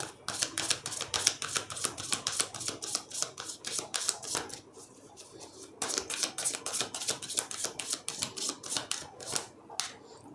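Tarot cards being shuffled and drawn from a mixed deck during a candle wax reading, a dense run of crisp papery flicks and riffles close up, pausing briefly near the middle before resuming steadily.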